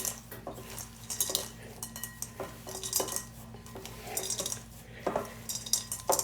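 Chocolate chip cookie dough mixed by hand in a bowl produces light, irregular scraping and clinking strokes, fairly quiet, over a low steady hum.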